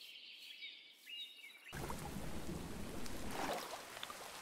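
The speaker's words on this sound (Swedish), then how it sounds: "Så ska det börja regna också, va?" Rain and thunder in the video game Minecraft arrive abruptly after a quieter moment, a broad hissing downpour with a low rumble that holds steady without speech.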